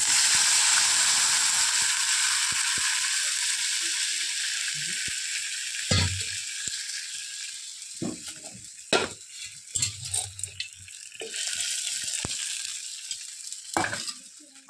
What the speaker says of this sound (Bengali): এখন দেখো পেঁয়াজটাকে ভালো করে ভাজা ভাজা করে জল আর মুসুরের ডালটা তুলে দেবো